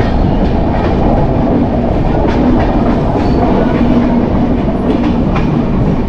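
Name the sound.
passenger train running on tracks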